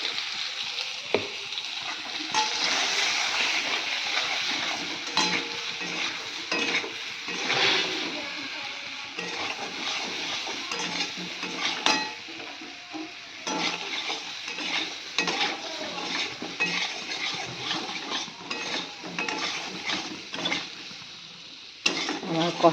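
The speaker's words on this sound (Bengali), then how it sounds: "আমার কষানো হয়ে গেছে" Papaya curry with cumin, chili and turmeric powder is stirred and sautéed in a pan, a steady sizzle under repeated scraping and clinking of a spoon, with a voice heard now and then.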